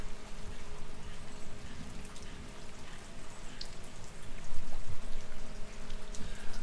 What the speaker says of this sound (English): watching it rain